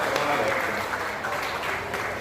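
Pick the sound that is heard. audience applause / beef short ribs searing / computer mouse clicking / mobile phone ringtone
audience applause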